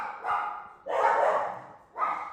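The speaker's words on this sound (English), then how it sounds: "Boy, the dogs." Dogs bark indoors, three separate bursts of barking a moment apart at moderate distance, with no talking alongside.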